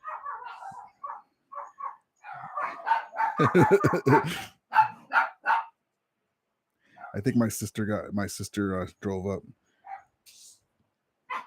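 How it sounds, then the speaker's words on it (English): Pet dogs bark in the background indoors in several short bursts of yips and woofs, with a longer run of barking later, all mixed with someone talking. "You hear my doggies in the background."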